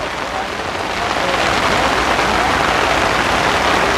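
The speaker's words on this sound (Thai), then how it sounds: "มาพร้อมฟ้าพร้อมฝน" Steady rain pours down during a rainy-season day in rural Thailand, a dense, even hiss that stays loud and close throughout with no pauses.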